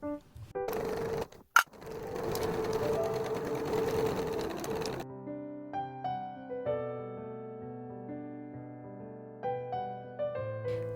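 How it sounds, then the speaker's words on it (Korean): A sewing machine stitches outer and lining fabric together for a tablet pouch, a steady soft close mechanical whirr after a brief clatter, then giving way to gentle tonal music. "겉감 원단과 안감 원단을 겉길이 맞대어 20cm의 창구멍을 제외하고 1cm 간격으로 박음질 해주세요"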